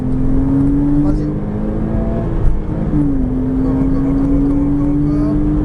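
A Porsche Cayman S race car's engine drones steadily and loudly at full throttle on a circuit, its pitch climbing as it accelerates hard, with a brief dip partway through before rising again.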